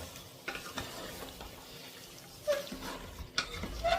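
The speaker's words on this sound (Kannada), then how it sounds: "ಚೆನ್ನಾಗಿ ಫ್ರೈ ಆಗಲಿ ನೋಡಿ ಚೆನ್ನಾಗಿ ಲೋ ಫ್ಲೇಮಲ್ಲಿ ಇಟ್ಕೊಂಡು ಚೆನ್ನಾಗಿ ಬೇಯಿಸ್ಕೊಂಡಿದ್ದೀನಿ" A mushroom biryani mixture frying gently on a low flame makes a quiet sizzle, with soft stirring scrapes and a few brief louder clinks of the utensil against the pan.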